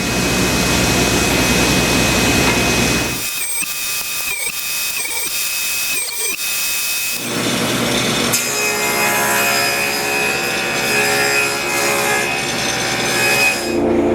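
A table saw notches a wooden workpiece for a tenon joint on a Shaker-style blanket box, its loud whine running steadily, dropping briefly while the blade passes through the wood, then resuming at full volume.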